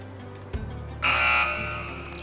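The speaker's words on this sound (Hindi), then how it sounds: "चलिए, तो मैं बज़र्स एनेबल कर रहा हूँ।" A loud electronic quiz buzzer blares for about half a second after a brief click, then fades into a lingering tone.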